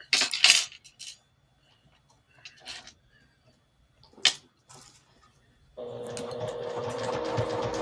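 A Juki sewing machine stitches right beside a magnetic seam guide. After a few scattered handling clicks, its steady, close whirring starts and runs without a break.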